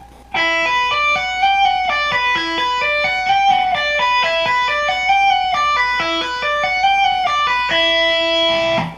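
An electric guitar plays a fast, clean pentatonic pattern of tapped notes and tap slides on one string, bright and close, in a steady stream of ringing notes that ends on a sustained chord.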